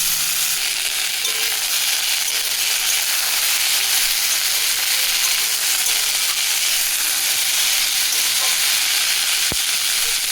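Potatoes fry in oil in a kadai, giving a steady, close sizzle that hisses evenly throughout with a few small clicks from stirring.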